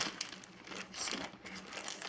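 A plastic bag holding a needlepoint kit crinkles and rustles in short bursts as it is handled, faint and close.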